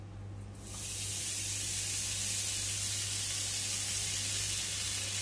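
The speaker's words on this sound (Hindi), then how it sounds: "कढ़ाई हमारा गर्म हो चुका है, अब इसमें हम खोवा डालेंगे।" Khoa (mawa) hits a hot kadhai and breaks into a loud, steady sizzle that stays strong and close after a brief quiet start, with no talk over it.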